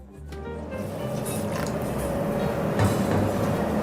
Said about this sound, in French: Frottez-le d'abord avec de l'alun et ajoutez assez d'eau pour le couvrir.